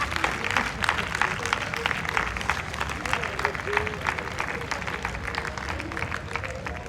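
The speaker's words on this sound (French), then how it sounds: "On acclame l'arrivée du gâteau." A congregation at a church service claps steadily to welcome a cake, producing a sustained, even wash of applause with crowd murmur and scattered voices beneath it.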